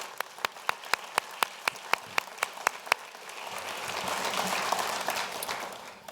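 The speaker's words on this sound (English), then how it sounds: "So let's give Joe and Lee a round of applause." An audience gives a round of applause at a university event, opening with a dozen evenly spaced single claps near the microphone before the wider crowd joins in a dense, moderately loud wash of clapping that swells and then thins.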